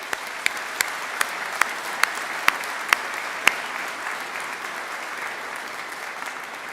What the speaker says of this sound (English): So can we just have a round of applause for all the people that have contributed?